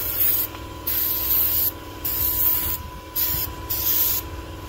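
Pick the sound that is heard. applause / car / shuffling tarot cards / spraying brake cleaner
spraying brake cleaner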